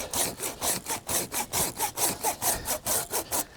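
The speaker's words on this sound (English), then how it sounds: "Going up into maybe a third, and then cutting just above it." Hand pruning saw cutting through a big tree limb, steady rhythmic rasping strokes about four per second, close and loud, with no talk.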